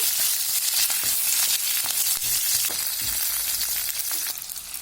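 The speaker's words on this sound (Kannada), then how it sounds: "ಎಂಟು ಹಸಿಮೆಣಸಿನ್ಕಾಯಿ ಹಸಿ ವಾಸನೆ ಹೋಗೋ ತನಕ ಚೆನ್ನಾಗಿ ಫ್ರೈ ಮಾಡ್ಕೋಬೇಕು" Green chillies, eight of them with small onions, fry steadily in a pan for tomato chutney, a dense continuous sizzle with a few soft scraping stirs, close and alone without any voices.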